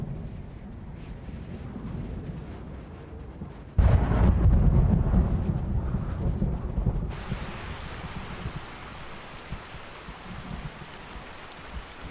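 Heavy summer wet-season rain pours through a Cuban forest, a dense steady roar that swells louder midway with deep rumbling before settling into a bright, even hiss.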